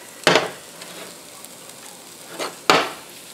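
An egg browns in a frying pan with a soft, steady sizzle, broken by two sharp scraping clinks of a utensil against the pan and a fainter scrape between them.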